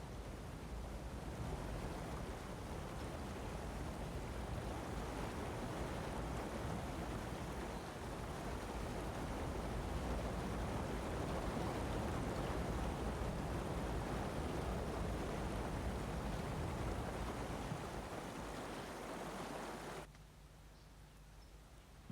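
Water rushing steadily through African highland wilderness, a dense continuous roar that holds for about twenty seconds and then drops to a quieter wash.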